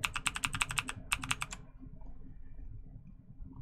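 A streamer types a quick burst of clicks on a computer keyboard while working on a Lichess and Twitch chess bot, then a short pause and a second burst before the keys fall quiet over low room hum.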